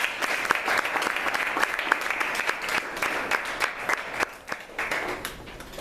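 A live audience applauds after an inspiring talk, a dense, steady wash of many hands clapping that carries on for several seconds, with sharper individual claps standing out and a slight easing toward the end.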